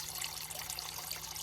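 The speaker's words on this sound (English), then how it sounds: "Over in the corner watching Dad pour his water." Water is poured into a reptile tank, making a continuous soft splashing trickle that stays even and fairly faint for a brief moment.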